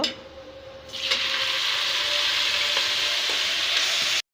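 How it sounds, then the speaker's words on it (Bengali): Leafy greens hit a hot pan in a simple home kitchen: a quiet start, then a sudden loud, steady sizzle and frying hiss that keeps on evenly until it cuts off. "এখন শাকগুলো দিয়ে দিব।"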